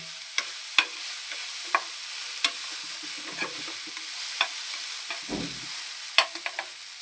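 Poha ingredients with turmeric, garam masala and chutney being stirred and mixed in a hot pan, with repeated soft scraping clicks of a spoon against the metal and a faint sizzle underneath, close and steady.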